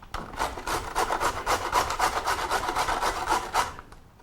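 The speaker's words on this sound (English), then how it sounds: "we can grate a carrot." A carrot is grated in a kitchen, giving quick rhythmic rasping strokes that scrape steadily back and forth for about four seconds, close and moderately loud, with no voices.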